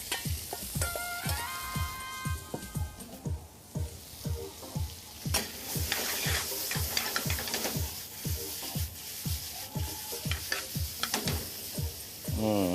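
Fish eggs hit hot oil in a pan and fry with a loud, close sizzle, while a rhythmic series of stirring scrapes repeats steadily throughout and a brief tonal clink rings out early on.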